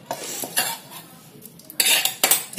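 A metal utensil scrapes and clinks against a pan while puffed rice is tempered, producing several sharp, irregular knocks and stirring rasps up close, with no talking.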